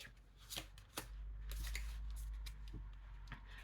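Tanis Lenormand cards being shuffled by hand, with quick papery riffles and soft slaps close by at a low, quiet level.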